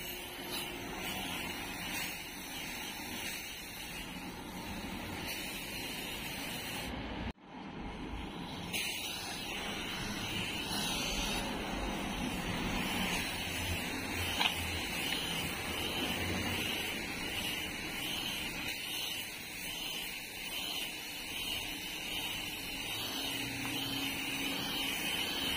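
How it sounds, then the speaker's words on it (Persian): Spray paint hissing from an aerosol can onto a Peugeot 206 rear bumper flap, a long steady spray with one brief pause, close and continuous with no talking. "خب اسپری تکون میدیم و شروع میکنیم همینطوری، یه فاصله مشخص به اسپری کردن"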